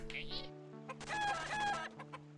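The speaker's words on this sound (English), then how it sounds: "We could sell the chicken." A chicken clucks and squawks in Final Profit: A Shop RPG, a short burst of close, loud game-sound fowl calls layered over sustained background music tones.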